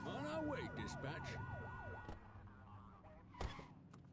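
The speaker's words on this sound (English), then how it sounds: "flip the siren to make them pull over" In a police video game, a police car siren wails in rapid rising and falling sweeps for about two seconds, then cuts off, leaving quieter engine hum and a sharp thump near the end.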